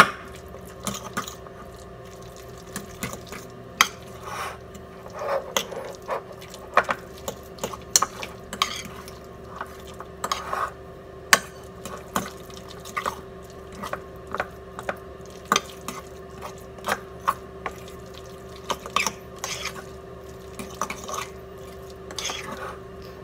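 A spoon folds Mexican cheese into creamy black beans in a dish. It makes soft, irregular scrapes and taps close by over a low, steady background hum, with no voices.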